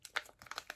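A taped Sailor Guardian surprise package is pulled at, giving quick, faint bursts of crinkling plastic and paper with a small tearing scrape.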